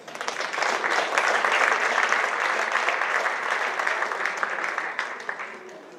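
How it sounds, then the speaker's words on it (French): Sustained applause from an audience at a school sports trophy ceremony honoring French champions, steady and dense clapping throughout with faint voices mixed in. "Allez, on peut les applaudir."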